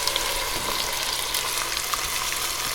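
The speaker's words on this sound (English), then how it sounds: "And now we're going to add our tomatoes." Tomatoes hit a hot pan for marinara sauce, giving a steady, loud, close sizzle and frying hiss that holds evenly throughout with no talk.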